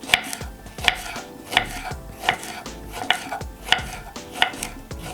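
Eggplant being chopped into small pieces with a knife on a cutting board, about eight sharp, evenly spaced chops close by, with no talking.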